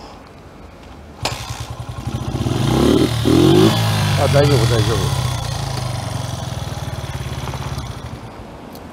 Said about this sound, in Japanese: 不安だから一回エンジンかけておこうか